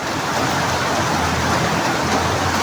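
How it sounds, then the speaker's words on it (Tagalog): Rain keeps falling in a continuous dense wash of noise, loud and steady from start to end, with no voices. "Ulan pa rin, guys, tamo. Tsaga pa rin yung ulan."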